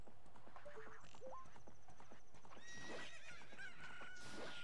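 Epona the horse from the Zelda: Ocarina of Time video game neighs loudly with a shrill whinny, alongside clip-clopping hooves and game sound effects, with no talking.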